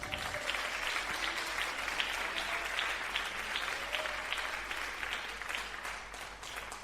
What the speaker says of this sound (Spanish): ¿Quién da un aplauso al Señor?